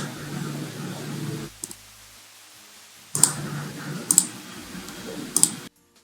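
A computer mouse clicks sharply three times over a steady hum of background noise, with a brief quiet gap between the bursts.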